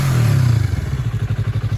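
A 2021 Yamaha MT-03 motorcycle engine idling, a loud close low rumble that starts smooth, then settles into an even, rapid pulsing beat with a faint high whine above it.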